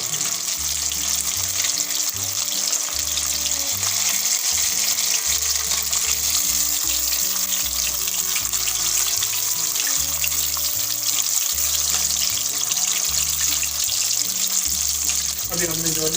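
KFC-style chicken frying in oil on a medium flame gives a steady, dense sizzle throughout, close and even, with background music underneath.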